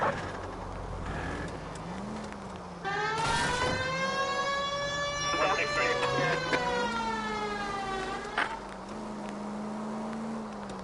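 A police siren in the video game L.A. Noire wails continuously with rising and falling tones over engine rumble, steady and loud throughout with a few sharp accents.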